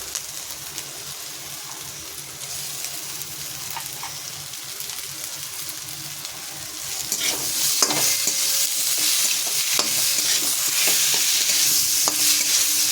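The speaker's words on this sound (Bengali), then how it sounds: "এটা ভালো করে নেড়ে চেড়ে কষা হবে। দিয়ে দেবো কতগুলি কাঁচা লঙ্কা, দিয়ে দেবো চিচিঙ্গাটা" Spices with tomato, green chilies and snake gourd stir-fried in a pan: a moderate sizzle with scraping stirs swells louder halfway as ingredients go in, then crackles steadily and close, no talking.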